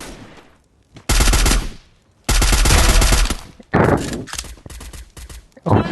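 Gunfire in the Free Fire battle royale game: loud bursts of rapid automatic shots in several separate volleys, close and dominant, with brief quieter gaps between them.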